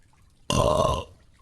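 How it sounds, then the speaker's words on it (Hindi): A cartoon crow lets out one deliberate burp, a loud, close, half-second belch that starts abruptly and stands alone in near silence. "तभी कालू जानबूझकर डकार देने लगता है।"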